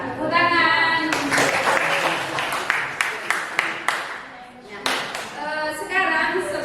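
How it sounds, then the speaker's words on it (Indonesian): Students in a classroom clap their hands after a presentation on influenza and COVID-19 viruses. The sharp, uneven bursts of clapping come close by, with talking voices before and after. "Ya, tepuk tangan."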